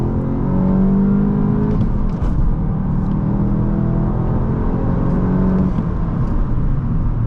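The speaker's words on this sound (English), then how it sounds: "let's do our first 0 to 60 test" A 2024 VW Golf GTI 380 SE accelerates hard in a 0 to 60 run, its engine droning loudly and steadily from inside the cabin, with a brief dip as it shifts gear and a whirring rise.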